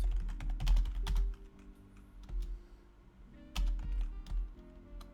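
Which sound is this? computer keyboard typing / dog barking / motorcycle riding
computer keyboard typing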